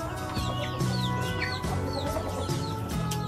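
Chickens cluck steadily inside a newly built chicken coop, a close, busy chorus of overlapping calls that runs the whole time, with no talk.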